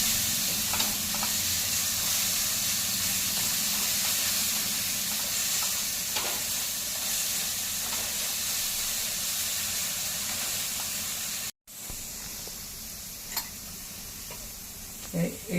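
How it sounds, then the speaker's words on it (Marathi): A coriander fritter (kothimbir vadi) mixture with crushed chilli paste sautés in a pan: a loud, steady hiss of frying with light stirring ticks and scrapes, interrupted by a brief cut before the sizzle resumes. "परतून घेऊया"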